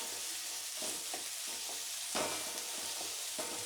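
Finely chopped bitter gourd frying in a pan over medium heat with a steady, close sizzle, broken by a few scraping stirs of a spoon or spatula through the pieces; no talking.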